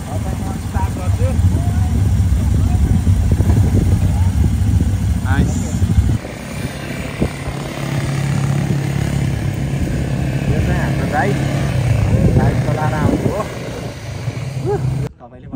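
A quad bike engine starts and runs on a group ride near Nelson Bay, Australia, with a steady, loud, buzzing motor droning throughout while people talk over it.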